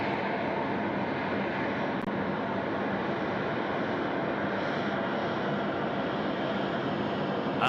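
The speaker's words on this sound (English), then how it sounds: "These planes are looking beautiful tonight." A jet aircraft at Sydney Airport at night gives off a steady broad engine roar that holds at an even, fairly distant level with no talk over it.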